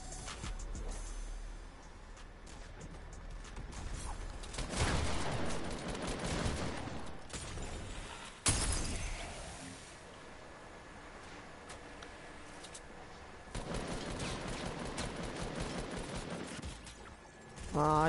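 Gunfire in the video game Fortnite, including shots through a wall, comes as mechanical clattering bursts, with two louder sustained stretches and a sharp crack midway, moderately loud and without talk.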